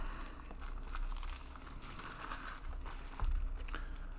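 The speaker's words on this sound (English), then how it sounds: "And get this out of the plastic." Plastic wrapping crinkles and crumples close up as it is pulled off a 2020 Google Chromecast box, a continuous soft rustle ending in a brief louder handling thump.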